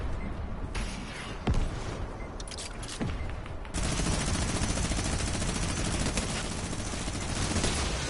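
Rapid bursts of automatic gunfire from a Fortnite match crackle continuously, with a denser, louder volley of shots taking over midway and running to the end.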